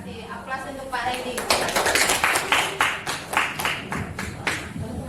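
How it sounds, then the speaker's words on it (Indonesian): A small group claps for a speaker at a school teachers' dissemination session, a few seconds of scattered applause mixed with voices talking over it. "Aplaus untuk Pak Randy."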